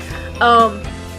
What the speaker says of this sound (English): And that's the dryer. It's going to do that 4 times.